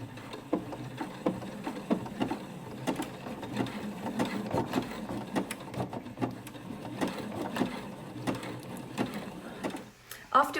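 A home sewing machine zigzag-stitches the edges of fabric pieces for a zippered sunglasses case, its rapid mechanical needle clatter running steadily at moderate loudness with ticking transients throughout.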